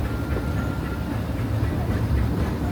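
The Disneyland Railroad train rolls steadily along the rails with a dense, close, continuous rumble and low mechanical clatter.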